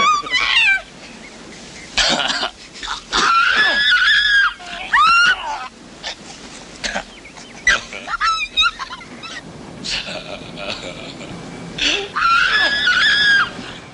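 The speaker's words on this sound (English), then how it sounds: "she has this scream, which is clearly one scream repeated over and over again in the soundtrack" A woman's shrill scream from a 1981 horror film soundtrack, repeated several times in loud bursts, with moments of coughing and throat clearing in between.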